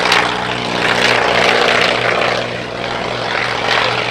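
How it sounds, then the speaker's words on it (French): A Fieseler Fi 156 Storch propeller plane takes off, its engine holding a loud, steady, droning roar with gentle swells throughout and no voices. "Là, le décollage du Storch."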